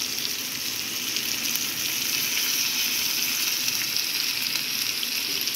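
Dried fish sautés in hot oil with siling labuyo chili added, a loud, constant, dense sizzle that holds steady throughout with no pauses or talk.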